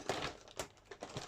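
A blade slicing small plastic parts from a Fanhome Build the USS Enterprise-D model kit, stage 52, giving a few close, crisp clicks and snaps spread unevenly over a second, with no talking.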